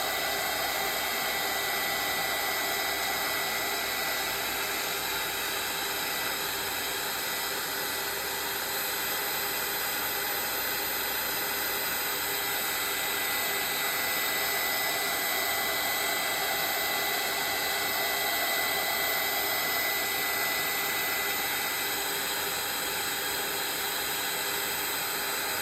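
A dryer blows steadily on a watercolor swatch, giving a constant, fairly quiet whirring hiss with a faint tonal whine that runs unchanged throughout, with no voices.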